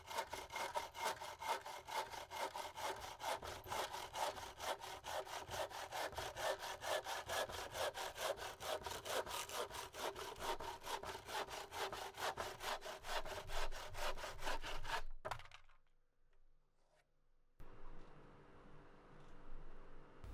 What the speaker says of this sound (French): Passage au banc d'essai.